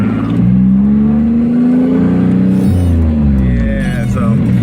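A car tuned for a 10 psi boosted pull accelerates loudly through a U-turn, the engine note rising steadily, dipping at a shift, then climbing again, with a voice talking faintly underneath.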